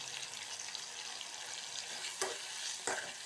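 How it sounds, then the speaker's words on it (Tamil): Tomatoes with salt and curry leaves sauté in a pan for a no-onion, no-garlic tomato yogurt pachadi, giving a steady close sizzle with two brief stirring scrapes near the end and no talking. "உப்பு சேர்த்து வதக்கின்னு இருக்கோம்"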